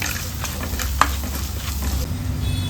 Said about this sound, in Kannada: ಒಂದು ಕಾಲು ಚಮಚದಷ್ಟು ಅರಿಶಿನ ಪುಡಿಯನ್ನು ಸೇರಿಸ್ಕೊಳ್ಳೋಣ ತುಪ್ಪದಲ್ಲಿ ಫ್ರೈ ಮಾಡ್ಕೊಳ್ಳೋಣ